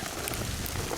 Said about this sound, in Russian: Дождь пошел, блин.